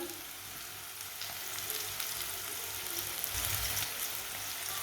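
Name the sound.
frying chopped onion, garlic, tomatoes and chili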